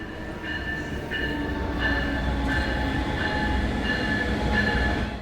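A high-speed Brightline train rushes through a Florida station nearby with a loud rolling roar, rhythmic clacking of wheels and high metallic tones, no voices.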